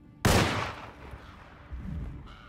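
A single loud gunshot in the horror video game Alone in the Dark cracks out sharply and then decays into a fading rumble, with a softer thud following and no speech.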